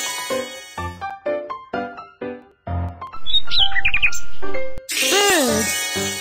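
Short chirpy bird calls rise over bouncy game music in the BabyBus School Bus children's game, with a bright tonal flourish near the end.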